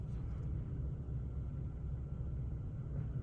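A tow truck moves along a road, a low, steady engine rumble heard from some distance, with no voices over it.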